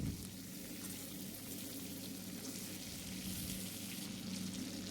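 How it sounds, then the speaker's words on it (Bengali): Pieces of pangas fish fry in hot oil after being flipped, a steady, dense crackling sizzle that stays close and even throughout, with no talking. "এবার আমি মাছগুলো উল্টে দেব যাতে উল্টো দিকটা ভালোভাবে ভাজা হয়ে যায়।"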